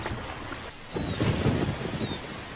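Heavy rain and a low rumble of thunder during a tropical rainy-season storm on the Llanos plains, a dense hiss with a rolling swell midway, no voices.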